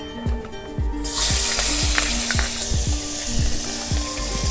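Onion paste hits hot spiced oil with bay leaf and whole garam masala, bursting into a loud steady sizzle after a second of quieter frying, with rhythmic scraping knocks of a spoon stirring the pan throughout.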